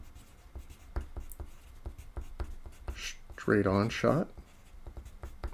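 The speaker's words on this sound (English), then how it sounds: "And let me just write that down." Pen strokes of handwritten notes being jotted down, a light scratchy rhythm of short taps and scribbles, close by, with someone speaking briefly over it.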